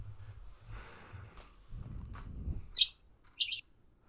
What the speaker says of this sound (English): Is that a parakeet? The birds in the break room.